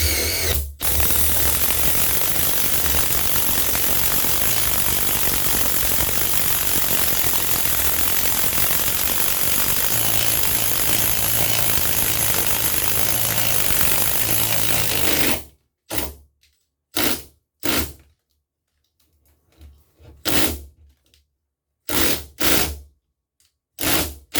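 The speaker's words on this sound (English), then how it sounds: "and then I started here with the Sawzall. And so I'm gonna just Swiss cheese this with some more holes in random places and just start chipping away at this" A Sawzall reciprocating saw cuts and chips into old floor framing and 2x4 lumber during demolition, running loud and continuous for about fifteen seconds, then breaking into short separate bursts with silent gaps.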